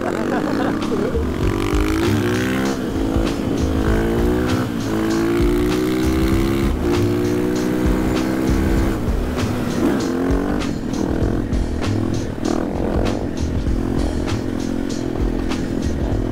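A KTM 500 EXC-F dirt bike engine revs and drops continuously up close, pitch rising and falling as the rider shifts and engine-brakes, with wind rush throughout.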